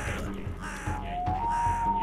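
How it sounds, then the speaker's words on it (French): A crow caws a few times, fairly close, over a low, steady droning background during a shamanic ritual in a tent. "le croassement d'un corbeau et le ululement d'un hibou se firent entendre"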